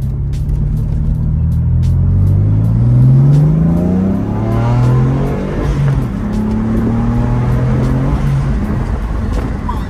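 BMW F80 M3 fitted with front-mount intakes accelerates hard, its engine note rising through several gears with deep rumbling, loud and close, no talking.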